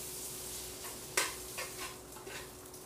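Noodles tossed in a pot of brown butter and garlic over low heat, giving a soft continuous sizzle with light stirring scrapes and one sharp utensil clink near the middle.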